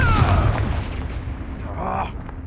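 The Confringo blasting spell in the video game Hogwarts Legacy goes off with a loud booming explosion right at the start. The blast rumbles away as it decays, and a second, smaller burst follows about two seconds in.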